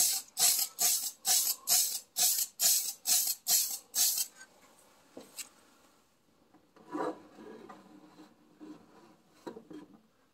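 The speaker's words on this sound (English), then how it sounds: "Try and spray at like every angle you can." Rhythmic bursts of paint-gun spray hissing on a 1967 GTO in cold weather, about nine quick pulses in a row, then quieter handling noises and scattered clunks.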